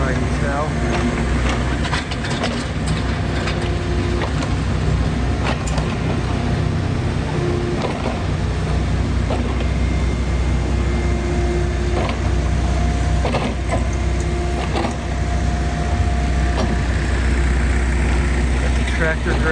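A large backhoe grades earth at a rainy construction site during a civic center mall renovation, its engine droning steadily with mechanical clanks and rumbles at a moderate distance throughout.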